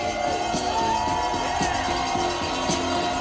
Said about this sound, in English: so let's cheer him on again